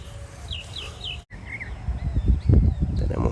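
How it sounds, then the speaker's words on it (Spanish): A mockingbird sings a few quick, bright repeated chirps at moderate distance, then a short rising phrase, before low rumbling background noise takes over. "El sinsonte es el que imita el sonido de todos los pájaros."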